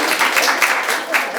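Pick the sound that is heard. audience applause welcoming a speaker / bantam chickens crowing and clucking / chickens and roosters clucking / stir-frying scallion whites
audience applause welcoming a speaker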